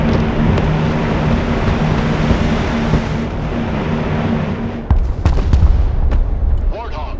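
Artillery and direct fire in the Broken Arrow war game: continuous rumbling barrage with low engine hum for the first five seconds, then sharper, louder separate booms and cracks close by.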